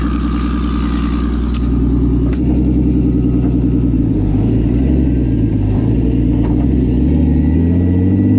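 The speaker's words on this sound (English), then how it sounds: "Banging it off the rev limiter for 4 minutes." A BMW-engined kart held hard against its rev limiter, a loud sustained engine roar with rapid stuttering cut-outs and shifting pitch, close up with no talking.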